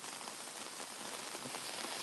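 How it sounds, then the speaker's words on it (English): Heavy rain pours steadily, a dense, continuous hiss of drops striking surfaces with no break or voices. "really raining now, y'all. Coming down now."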